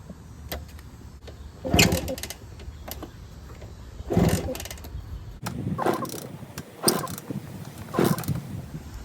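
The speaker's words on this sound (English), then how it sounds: "Before I kick the motor over, I'm going to squirt a little two-stroke mix into the cylinder to make sure it's lubricated." Two-stroke Suzuki Trailhopper minibike motor being kicked over several times, giving repeated bursts of mechanical churning and rattling at close range with no speech.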